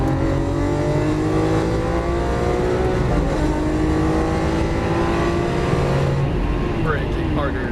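A Lamborghini Aventador LP700-4 accelerates at full throttle on a Las Vegas racing track, its engine a loud, sustained roar that climbs through the revs, with a gear change partway and an instructor's voice talking over it.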